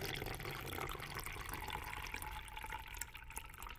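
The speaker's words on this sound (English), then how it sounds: "the pours are low, not as long because I've drank half of this water" Water pours from a glass in a quiet, close-up setting, a soft, low trickle and splash that runs continuously at a faint level.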